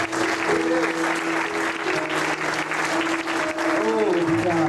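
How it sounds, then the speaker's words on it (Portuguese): A church congregation applauds continuously through a sermon, the dense broadband clapping running the whole time under sustained voices and singing. "Vamos aplaudir a Deus."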